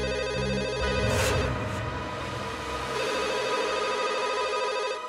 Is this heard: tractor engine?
no